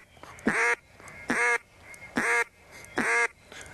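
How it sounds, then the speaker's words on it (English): Four loud, evenly spaced quacks blown on a duck call, each a short raspy honking note with a sharp start, building to a fuller, louder quack as a caller's cadence lesson progresses. "From that step, you want to go to a little louder quack"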